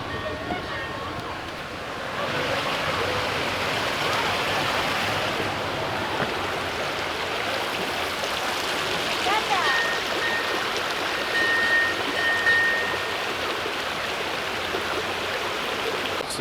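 A small waterfall runs through a Disney park area, giving a steady broadband rush of falling water that fills the whole stretch, with faint voices and park sounds mixed in.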